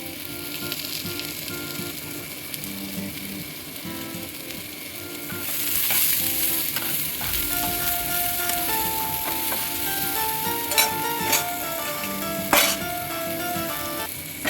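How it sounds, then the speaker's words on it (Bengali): Colourful winter vegetables sizzle steadily in a frying pan, with a spatula stirring and scraping through them in irregular clinks; the frying grows louder partway through and stays close, with no talking. "সব সবজিগুলো এতে দিয়ে দিলাম, দিয়ে এটাকে একটু ভালো করে ভাজা একটু করে নেব।"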